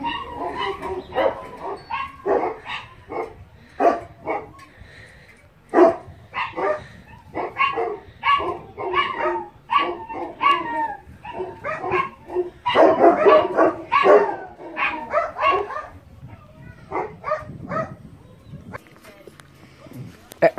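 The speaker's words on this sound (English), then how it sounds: "Oh, you dogs need to shut up!" Several dogs bark in rapid, repeated bursts with yips and whimpers mixed in, loud and close, while people talk throughout.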